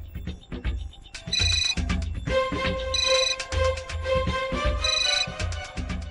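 A phone ringtone plays loudly and repeatedly, its bright electronic melody pulsing in steady bursts for several seconds while the call goes unanswered.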